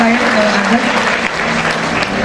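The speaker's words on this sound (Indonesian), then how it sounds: "Boleh kita beri tepuk tangan yang terbaik?" A congregation applauds during an Indonesian church revival service, a dense, steady wash of clapping that holds at full loudness for a couple of seconds, with voices talking over it.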